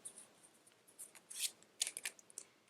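Tarot cards drawn and handled during a reading, with faint, brief papery slides and snaps in irregular bursts, the sharpest pair near the end, over a quiet room.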